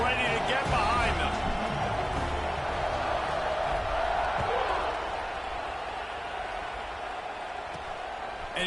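Stadium crowd roar from an NCAA football video game at a kickoff, a broad sustained rumble of cheering that eases off slightly, heard under a commentator's voice.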